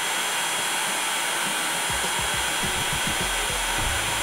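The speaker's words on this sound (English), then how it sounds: "This particular heat gun has a temperature sensing, so it's quite handy." A heat gun on its second heat setting blows a steady, loud roar of hot air from about two inches above the chips of a Mid 2007/Early 2008 Apple MacBook Pro logic board, running continuously with no talk.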